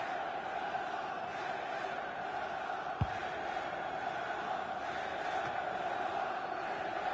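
A stadium crowd in a football video game keeps up a steady, distant roar of chanting and cheering, a constant bed of noise broken once by a brief sharp thump, with no talking.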